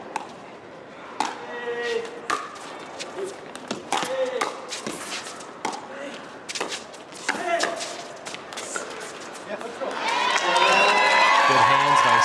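A pickleball match crowd at the Veolia Milwaukee Open breaks into loud, sustained cheering and applause near the end, after scattered paddle pops and murmurs under an announcer's commentary.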